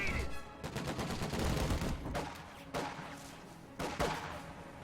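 Gunfire from a World War II tactical shooter battle, with repeated bursts and single shots fired at troops inside a building, dense and continuous at mid distance and fairly loud.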